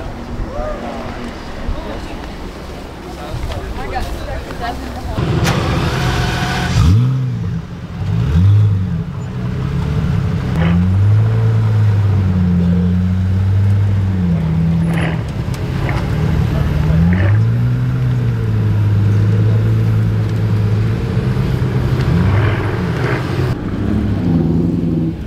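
A carbon Pagani Zonda F roadster engine revs in Wyoming, its loud exhaust note climbing and falling through several sustained throttle sweeps, with wind noise in the background.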